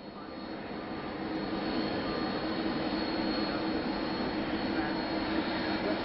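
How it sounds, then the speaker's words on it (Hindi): Air Force One, a large jet, takes off from Andrews Air Force Base with a loud, continuous engine roar that builds slightly at the start and then holds steady. "एयरफोर्स 1 सेंट एंड्रयूज एयरबेस से रवाना होता हुआ"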